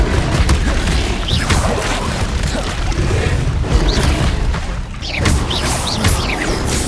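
Confringo blasting spell explosions in Hogwarts Legacy, loud repeated booms and crashes filling the clip, dense and close, with a brief dip before another blast.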